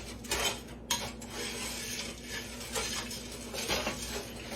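A spoon scrapes and clinks against a pan while caramel cake icing is stirred, giving steady rubbing strokes with a few sharper knocks and no talking.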